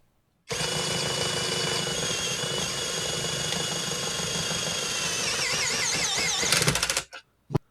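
A HyperTough brushless drill driver running at low speed starts abruptly and holds a loud, steady motor whine with gear rattle for about six seconds, then warbles briefly and cuts off.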